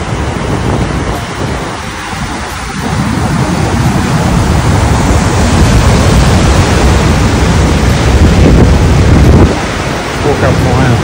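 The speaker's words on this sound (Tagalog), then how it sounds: "sobrang lakas ng alon, guys." Heavy ocean waves whipped up by Cyclone Alfred in Australia roar continuously, a loud rushing surf that swells midway through, with wind buffeting the microphone.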